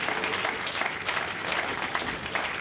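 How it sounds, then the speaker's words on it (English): Applause from a home crowd giving a standing ovation after the women's final of the 2010 Melbourne 10-pin bowling cup, a steady dense roar of clapping that fills the hall with no talk over it. "Standing ovation."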